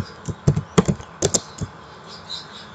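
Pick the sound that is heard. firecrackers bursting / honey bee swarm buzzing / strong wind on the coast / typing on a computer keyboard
typing on a computer keyboard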